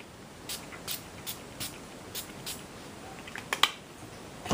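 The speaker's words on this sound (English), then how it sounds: "give them another spray." A spray bottle misting paper mini roses gives a run of short, sharp hissing bursts spaced about half a second apart, clear and close, with no talk over them.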